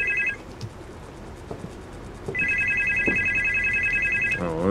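A telephone rings in the horror game Supernormal: a brief electronic trill at the start, then a longer continuous ring that runs on until the end, loud and steady over quiet background noise.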